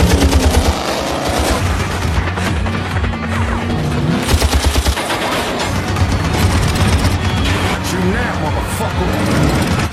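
Rapid gunfire bursts crackle over roaring modified cars during a film's death race scene, loud and dense throughout, with a narrator talking over the action.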